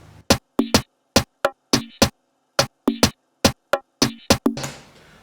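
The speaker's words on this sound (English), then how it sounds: "all the rims together sound like this." Afrobeat rim drum samples layered in FL Studio play a busy, syncopated pattern of crisp, dry clicks and knocks, close and loud, with a brief noisy burst at the very end.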